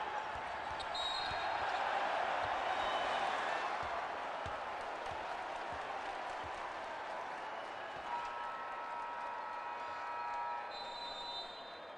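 Arena crowd at a 2019 FIBA Basketball World Cup Americas qualifier between Venezuela and Canada, a loud sustained roar of cheering that swells early and stays high, with a ball bouncing on the court and a voice occasionally heard underneath.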